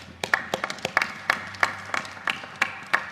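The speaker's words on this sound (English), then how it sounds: "Let's give them a round of applause." Scattered applause rises at a beam-signing ceremony for a school as a small audience claps for children, with sparse, uneven handclaps sounding close and fairly light.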